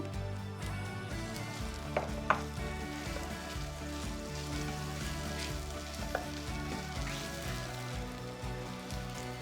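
Potatoes frying in oil with ginger, garlic and mustard for vada pav filling, giving a steady dense sizzle throughout with a couple of brief clinks of stirring.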